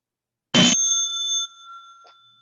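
A meditation bell rung once at a Buddhist Sangha gathering gives a sharp strike followed by a clear, sustained ringing tone that slowly fades, with a faint soft knock near the end.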